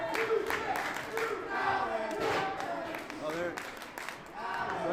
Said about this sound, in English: And you can hear the crowd giving Alan his props.